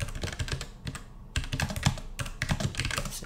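Rapid, continuous typing of code on a computer keyboard, close and clear, with dense clicky keystrokes in irregular bursts and brief pauses, no talking.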